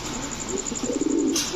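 Lal Jira pigeons coo softly in a low, brief burble close by, with no talk over them.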